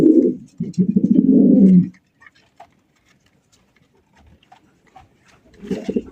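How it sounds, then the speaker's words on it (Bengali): A pair of Bombay pigeons coo close by in a burst of low, throaty, rolling calls, followed by near quiet with faint clicks and a brief later coo. "খুবই সুন্দর এক জোড়া বোম্বাই কবুতর।"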